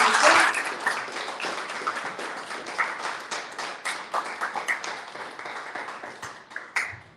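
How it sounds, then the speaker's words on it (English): An audience at a panel and vigil claps for the panelists, a burst of applause that starts loud and gradually thins to scattered claps over several seconds. "Can we please get a round of applause for all of our panelists?"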